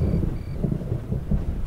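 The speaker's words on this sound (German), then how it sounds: "Das donnert im Hintergrund." Low, continuous thunder rumbles in the background of a war scene in the video game Blacksite: Area 51, with swelling surges and a faint wash like rain, steady throughout.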